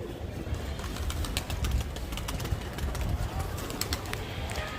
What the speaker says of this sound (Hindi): ये देखो गाइस, यहाँ पे कुछ 4-5 कबूतर अपने धीमे धीमे ऊपर जा रहे हैं।